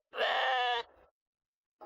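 A goat bleats once, loud and close, a strained wavering cry lasting under a second that tails off into a short low grunt, followed by silence and a brief faint sound at the end.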